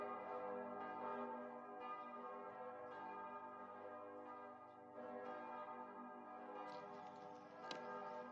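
Solar plasma rendered as sound: deep, resonant ringing tones sustain and overlap like tolling church bells, a steady droning hum with faint periodic ticks, quiet and continuous.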